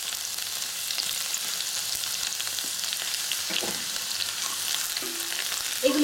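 Chopped garlic frying over medium heat in a pan for Schezwan chicken, a steady close sizzle with light stirring scrapes and a few faint clinks, no talking.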